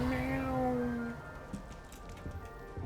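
A cat in the video game Hogwarts Legacy gives one clear, drawn-out meow up front, followed by quiet game ambience with faint scattered noises and no talking.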